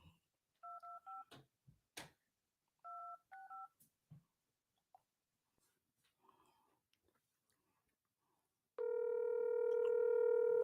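A phone dials a congressman's office: two quick bursts of touch-tone keypad beeps, a quiet stretch, then a loud, steady ringing tone that holds to the end.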